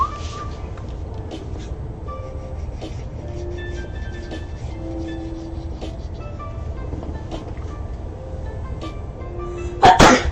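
A single sharp sneeze bursts out near the end, loud and close, after a stretch of quiet background hum and faint music.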